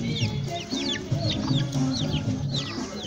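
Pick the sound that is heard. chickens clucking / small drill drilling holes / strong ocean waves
chickens clucking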